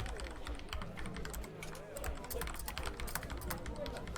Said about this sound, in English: I'm typing something to you.